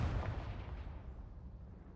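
Confringo, the fire-blast spell in the video game Hogwarts Legacy, erupts in a deep booming explosion with a rumbling, crackling tail that fades slowly over about two seconds.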